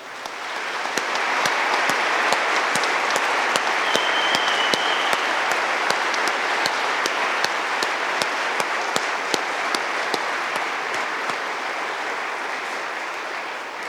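Sustained audience applause at a December undergraduate commencement ceremony, a dense steady wash of clapping from a large crowd lasting the whole stretch, with a few sharper individual claps standing out near the front.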